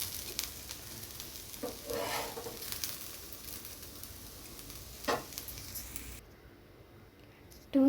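Ingredients for a mushroom gravy toasting in a pan, giving a soft, steady sizzle with occasional stirring scrapes, faint and close, ending in a brief sharp clink.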